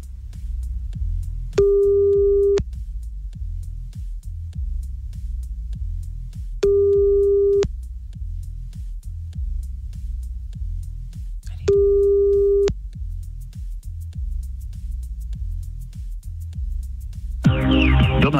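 A telephone busy signal sounds three times, each a steady two-second tone separated by pauses over a low background hum, with a brief burst of other sound at the very end.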